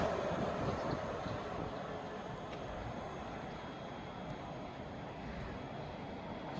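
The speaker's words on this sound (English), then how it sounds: "heavy moving freight train." A slow, heavy freight train rumbles past at a rail line in Eastleigh, giving a steady low, dense roar with faint metallic squeals above it, continuous and fairly distant throughout.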